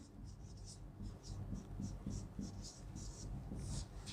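Chalk or marker strokes on a classroom board come in quick rhythmic scratches and taps as a teacher writes out a Hindi verse, close and fairly quiet with a faint hum underneath.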